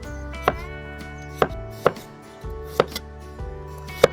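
A knife chops through potatoes on a board in slow, uneven strokes, about seven sharp thuds that ring against a steady background hum.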